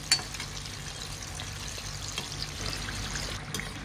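Chicken nugget pieces fry in hot oil over a medium flame, giving a steady soft sizzle with faint scraping and stirring as they are turned, quiet and close.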